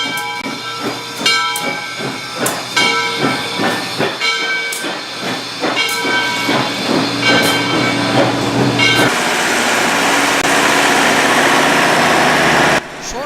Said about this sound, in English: We then see our train as it pulls into the station.